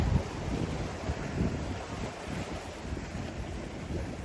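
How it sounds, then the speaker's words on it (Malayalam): Steady wash of sea waves with rough low rumble, like surf heard from near the shore with some wind buffeting the microphone. "നല്ല തിരയുടെ ശബ്ദം കേൾക്കുന്നുണ്ടാവും"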